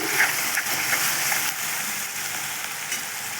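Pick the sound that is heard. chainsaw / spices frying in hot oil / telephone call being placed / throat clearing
spices frying in hot oil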